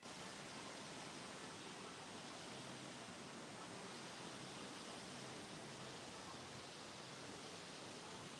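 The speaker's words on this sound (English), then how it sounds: "The beautiful sound of rushing water." Rushing water from a waterfall at Grizzly Peak in the Disneyland Resort, a loud, steady broadband roar that fills the whole clip without a break or any voices.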